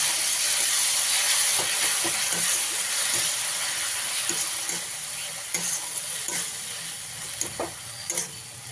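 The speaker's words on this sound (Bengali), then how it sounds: "টমেটো বাটা দিয়ে মশলাটাকে ভালো করে এবারে কষিয়ে নিই" Spice masala with tomato paste fries in a pan, a steady hissing sizzle that fades a little over time while a spoon stirs and scrapes with soft intermittent clicks, close by.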